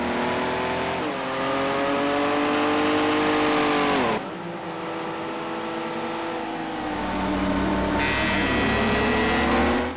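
Porsche race car from the Porsche Legends Pack racing game at Hockenheim, its engine loud and close, revving high with steady pitch sweeps through upshifts and a downshift into the final corner.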